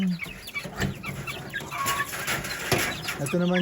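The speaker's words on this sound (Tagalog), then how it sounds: "yung mga sisiw na bagong umpisa. 3 days old" Three-day-old chicks peep and cheep close by, a busy overlapping chorus of small bird calls with a fowl clucking nearby, heard under some background noise.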